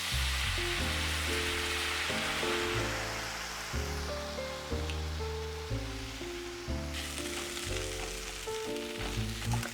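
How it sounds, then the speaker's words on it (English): White wine hits a hot buttered pan for deglazing, giving a steady bright sizzle with rhythmic scraping and stirring strokes, close up and fairly quiet throughout. "I'm gonna go ahead and deglaze the pan with some white wine."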